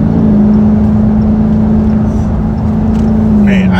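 A truck engine with a pedal box fitted revs and holds under load, giving a loud, sustained droning tone that shifts slightly near the end, with someone talking over it.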